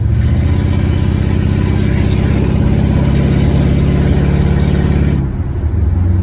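A 1968 Lincoln Continental's V8 engine with Holley Sniper EFI roars steadily under hard acceleration in first gear, a deep, dense rumble heard from close up that eases off slightly near the end.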